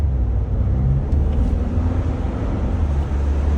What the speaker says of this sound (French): je vais accélérer que vous puissiez un peu entendre tout ça